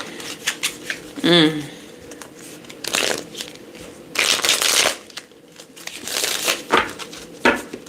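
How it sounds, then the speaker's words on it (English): Cards shuffled close by in several quick riffling bursts with pauses between, plus a brief vocal sound near the start. "Let's get a good shuffle."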